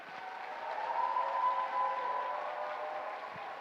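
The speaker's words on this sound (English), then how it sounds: "Again, please give them another round of applause." A steady wash of audience applause at a peace conference in Europe, dense and continuous, heard at a moderate distance from a large crowd.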